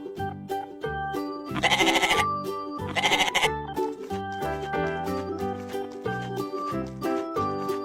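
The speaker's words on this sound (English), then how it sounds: "Goat." Cartoon goat in a children's farm-animal animation gives two loud, wavering bleats over a bouncy, tuneful music backing.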